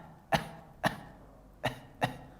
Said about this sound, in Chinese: 咳嗽一声